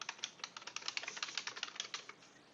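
Rapid typing on a computer keyboard while writing text in an Outlook email, a steady run of close, crisp key clicks with no talking.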